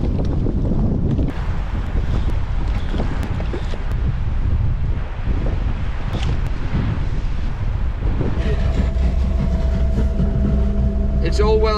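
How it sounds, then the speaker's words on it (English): Strong wind buffets the microphone on North Stradbroke Island, a loud continuous roaring rumble with gusty surges, joined near the end by a voice talking. "nothing here apart from just a lot of wind"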